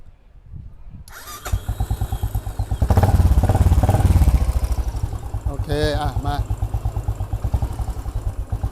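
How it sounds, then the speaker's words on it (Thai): A motorcycle engine fires up, revs loudly, then drops back to a steady, chugging idle during a charging-system check, with a few brief words spoken nearby. "พอเราเร่งเครื่องนะครับ มันวนมันขึ้นไปถึงเร่งเร่งไปเลย"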